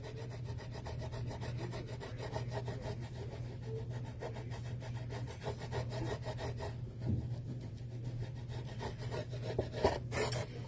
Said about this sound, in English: Stay on the piece of wood that you're working on, because you might hurt yourself if you slide off. And then you just rub it on.